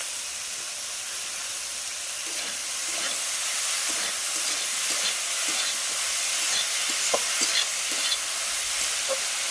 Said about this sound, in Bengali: দেখো এবারে ফুলগুলো দিয়ে দেবো, দিয়ে ওর সঙ্গে নাড়বো।